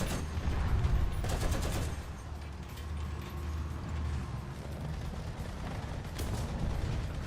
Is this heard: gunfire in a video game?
yes